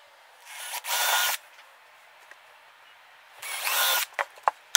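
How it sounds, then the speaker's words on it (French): A power drill bores through two wooden boards held edge to edge in two whining bursts, one early and one late, separated by a quiet pause, with a few sharp clicks at the end. "je vais percer"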